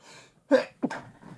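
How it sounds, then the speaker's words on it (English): A single close sneeze in a quiet indoor room, a sharp two-part burst with a quick inhale and then the explosive release, followed by faint breathing. "I'm gonna sneeze."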